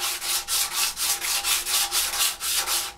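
Bondo filler on a motorcycle fairing sanded by hand, with a rhythmic back-and-forth rasp of about a dozen quick, close strokes.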